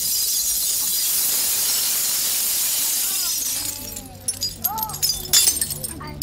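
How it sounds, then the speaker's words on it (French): Broken glass poured out of a wicker basket at a circus fakir act: a long continuous hissing, crunching cascade of shards, followed by scattered clinks and tinkles as pieces settle. "oui, c'est du verre cassé, non pas du verre pilé, du verre cassé"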